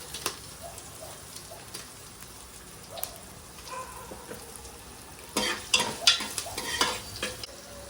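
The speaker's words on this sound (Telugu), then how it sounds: "ఈ పచ్చిమిర్చి అనేది కొంచెం వేగిన తర్వాత ఎండుమిర్చిని కూడా వేసుకోండి" Green chillies and dried red chillies frying in a pan for sambar rice, giving a quiet, steady sizzle and crackle with occasional scraping stirs, rising into louder bursts of spitting toward the end.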